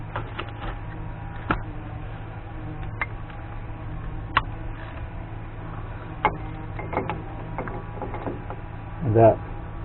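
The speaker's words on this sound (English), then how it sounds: "then you tighten the outer nut to 50 pounds" The outer lock nut on a full-floating Dana 60 rear hub is tightened with a hand tool, giving sparse, sharp metallic ticks and clicks at uneven intervals over a low background hum.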